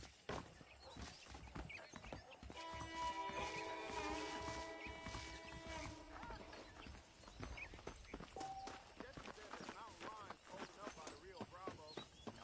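Horse hooves clip-clop at a steady walking pace in Red Dead Redemption, a Western video game, with music and talk over the top.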